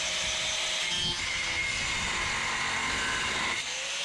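An angle grinder cuts metal during a radiator fitting job on a 98-02 F-body Camaro with a turbo 3800 engine, a steady close, loud harsh grinding roar that holds for the full stretch with slight dips.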